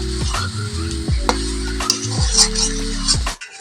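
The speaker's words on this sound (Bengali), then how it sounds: "আমার নারকেল পোড়াটা লাল লাল ভাজা হয়ে গিয়েছে" Grated coconut frying in a pan for coconut pitha, a close, steady sizzle broken by scraping stirs of a utensil against the pan, with a steady low hum beneath and no talk.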